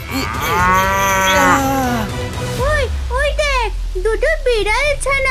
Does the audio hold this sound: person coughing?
no